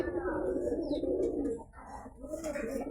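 A small home loft of pigeons gives soft, rolling coos close by, continuing through a brief dip before resuming, with faint background noise underneath.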